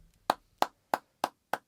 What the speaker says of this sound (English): I'm clapping for him.